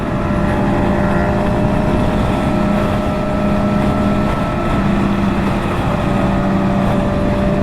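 Kawasaki H2 SX motorcycles ride past in a convoy near Sepang International Circuit, a steady, loud engine drone with wind rumble that holds evenly throughout, with no talking.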